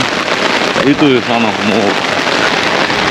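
Steady rain falls at a coastal dive spot with big waves, a dense continuous hiss, while a person speaks briefly over it.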